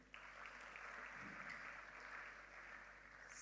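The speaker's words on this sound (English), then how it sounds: "Another round of applause for Jalil." Audience applause fills a medical symposium hall in Rwanda, a steady, dense clapping that holds at even loudness throughout, with no speech over it.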